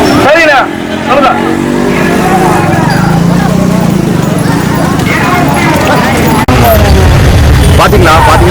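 Busy road in Munnar crowded with cattle and vehicles, a dense, loud wash of engines, hooves and horns continuing steadily, with people talking over it.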